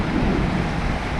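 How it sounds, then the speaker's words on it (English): Rain drums on a tin building, a dense, steady hiss and patter that fills the whole moment with no voices. "Love to hear the rain on this tin building here."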